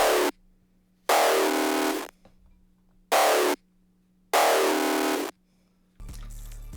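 A bassy lead synth preset from Zenoza's Xmas kit plays four bright sustained stabs separated by silent gaps, followed by a brief low tail at the end.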